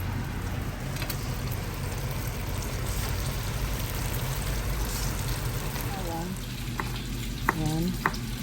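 Garlic sautéing in a pan while making vegetable lumpia, a loud, dense, continuous sizzle and fry crackle throughout, with a few clinks of a utensil near the end.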